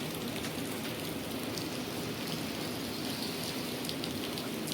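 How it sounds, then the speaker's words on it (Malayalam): Rain falls steadily in an even, continuous hiss of drops on surfaces, moderately distant and without talk. "മഴ"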